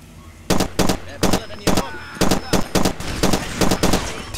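Rapid bursts of gunfire in the video game Far Cry 2, about a dozen sharp loud volleys in quick irregular succession over a low game ambience.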